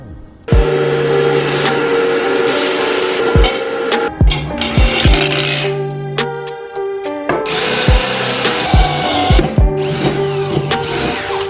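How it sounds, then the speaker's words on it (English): A power drill whirs loudly and close in several long bursts, drilling pilot holes for a lug pattern conversion, stopping and restarting with sharp knocks and clatter in between. "So now we can drill the final hole here, pilot hole there"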